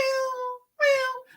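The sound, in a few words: cat meowing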